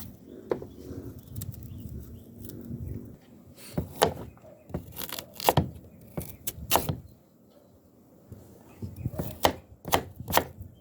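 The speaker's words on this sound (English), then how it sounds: "So that is our cocoa we just cut up." Knife chopping cocoa (coco yam) on a board for Jamaican chicken soup, a series of sharp, irregular close taps and knocks in clusters, with faint background voices and household noise.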